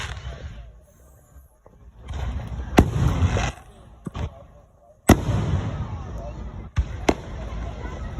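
Fireworks exploding at an outdoor firework show, several loud sharp booms with crackling bursts spread across the stretch, some close and sudden, with background chatter between them.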